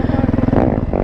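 A dirt bike engine at a street race blares up close, its rough, pulsing rev rising and shifting over about a second.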